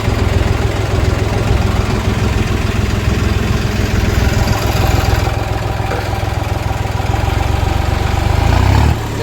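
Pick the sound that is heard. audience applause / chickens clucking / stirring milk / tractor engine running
tractor engine running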